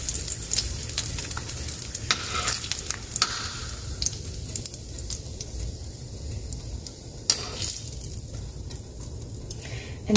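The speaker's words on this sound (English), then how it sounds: "So now the fat has been rendered from the bacon, including these little bits of fat from the pork." Pork pieces frying in rendered bacon fat for carnitas give a steady, dense sizzle and crackle that runs close and unbroken throughout, with no voices.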